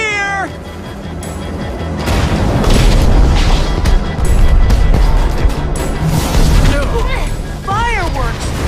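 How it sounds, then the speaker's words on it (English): Booming firework blasts in Minecraft Story Mode, loud and dense, mixed with game music and a cat-like wailing cry, while voices speak over the action. "Fireworks!"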